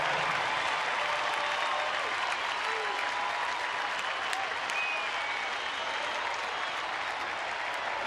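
A baseball stadium crowd at a Rangers game stands and applauds, a broad, distant wash of clapping and cheering that holds steady the whole time without letup.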